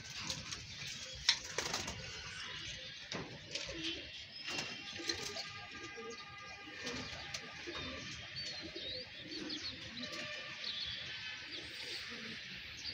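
Pigeons coo in a loft shared by large adult birds and young squabs, a steady murmur of overlapping calls over a dense, hissy background, with scattered sharp knocks and rustles nearby.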